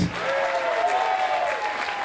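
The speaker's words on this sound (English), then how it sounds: "One big round of applause for the Board of Education" A crowd at a retirement celebration for a school superintendent gives a round of applause for the Board of Education, an even, moderately loud clapping sustained throughout with a tonal voice-like sound riding over it.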